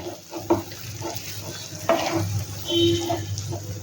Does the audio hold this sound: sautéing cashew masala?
yes